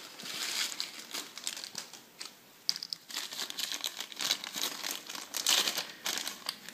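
Plastic packaging holding PC motherboard mounting screws being opened, a close, continuous crinkling and crumpling with irregular bursts of rustle and a few tearing snaps.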